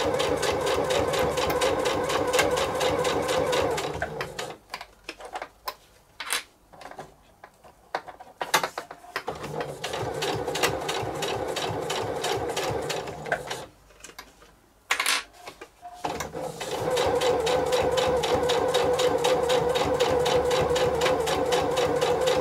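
A sewing machine runs a seam on a beach bag in long, steady bursts of fast mechanical stitching, close and loud, with a few brief pauses and short ticking breaks midway before the motor picks up again.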